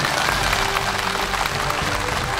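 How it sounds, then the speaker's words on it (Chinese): Studio audience applause welcoming a guest onto a TV talk show set, a steady dense wash of clapping filling the whole stretch at even loudness. "接下来，让我们掌声有请老雷。"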